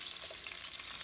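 Oxtails browning in a hot skillet give off a steady bright sizzling hiss of frying fat, close and continuous with slight bubbling texture, no voices.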